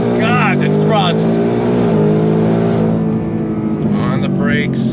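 A Hennessey H850 Mustang Dark Horse pulls hard in second gear, its engine note climbing loud and close, with rising whines sweeping up and a brief shift break. A voice is heard faintly under the roar.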